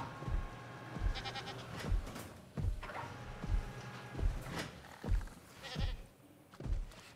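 A goat bleats repeatedly in Jurassic World Evolution 2, a run of sharp, close calls coming about every second over faint game ambience.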